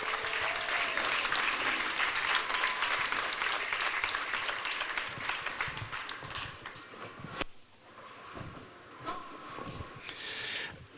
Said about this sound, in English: We could have a round of applause for those two